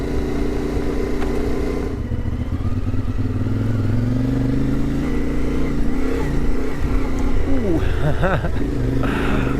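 A CFMoto Ibex 450 adventure motorcycle, fitted with a 15-tooth sprocket, rides and accelerates on a highway, its engine droning loud and steady with rising pitch and wind noise, and a voice talks briefly over it.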